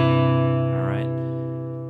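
Downward guitar rake across the 6th, 5th and 4th strings in bluegrass style, a quick sweeping strum rising out of a sustained ringing chord, clear and close with no talk.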